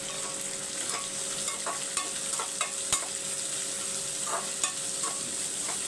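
Onions and potatoes sautéing in a pan, a continuous close sizzle with scattered light taps and scrapes from stirring.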